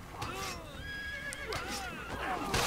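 A horse in the Assassin's Creed video game neighs and whinnies loudly up close, several shrill rising-and-falling calls mixed with hoof clatter and scuffling, while someone talks over it.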